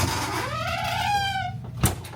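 A cabin door on a Celebrity Summit cruise ship stateroom squeaks as it swings: a rising, drawn-out creaking whine lasting over a second, close and fairly loud, ending in a soft knock as it closes.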